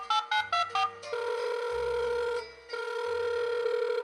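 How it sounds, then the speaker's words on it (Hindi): A phone dials out with a quick series of keypad tones, then a ringback tone purrs in two long, loud buzzes separated by a short gap, close and alone. "अरे, फोन लगाकर पूछ तो लूं कि वो घर पहुंचा कि नहीं।"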